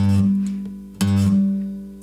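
An electric guitar plays the opening phrase of a riff on the low sixth string, two sustained bass notes ringing out one after the other, clear and close with no talking.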